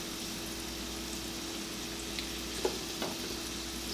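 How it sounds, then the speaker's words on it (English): Minced garlic sautéing in melted butter in a pan, giving a steady soft sizzle throughout, with a couple of faint clinks from utensils near the end. "So we will melt that and go ahead and add our garlic in there"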